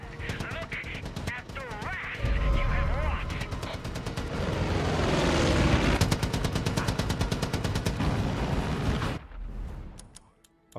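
Rapid automatic machine gun fire in the shooter game Far Cry 5, loud sustained bursts with rhythmic repeated reports, pausing briefly before resuming, while someone talks over the action.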